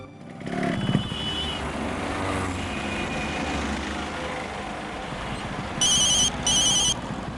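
A telephone ringing for an incoming call, two short bursts of bright electronic ringtone near the end over a low steady background hum, with no talking.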